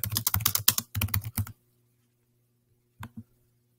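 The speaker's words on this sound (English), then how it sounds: "I click where I want to add text and I can type" Text is typed on a computer keyboard in a rapid close burst of key clicks, then a pause before two final isolated taps, with no talk.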